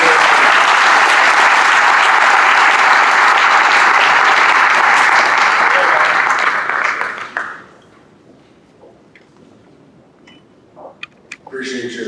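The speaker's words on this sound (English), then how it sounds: "Let's have a big round of applause for the" Loud, sustained applause from the audience at a college football scholar-athlete awards luncheon, honoring a high school athlete, continuing steadily for about seven seconds before dropping away to quiet room noise and a few scattered claps.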